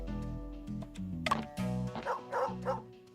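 Dog in the video game Murders on the Yangtze River, a quick run of short yipping barks and whimpers over a low musical drone, close and moderately loud.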